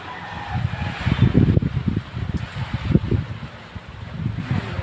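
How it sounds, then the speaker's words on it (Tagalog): Strong wind gusts outdoors during rain, buffeting the microphone in loud low rumbling bursts that swell and ease, with faint rustling behind and no talking. "Pero mas malakas ang hangin sa tingin ko"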